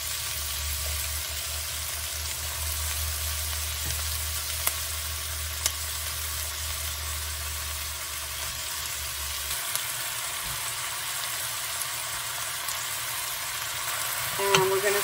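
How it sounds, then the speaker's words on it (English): Beef browns in a pan with onions and garlic, giving a constant close sizzle and crackle with occasional stirring clicks and a low hum underneath. "Saute this with the onions and garlic until it is browned all over."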